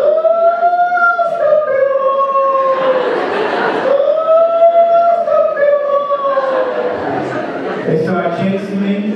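A comedian on stage imitates a wailing police siren, rising and falling in long sweeping tones, loud and close.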